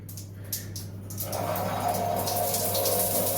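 Warm water runs steadily from a tap at a Great Yarmouth public facility, starting with a gush after a few faint knocks, then flowing continuously at close range.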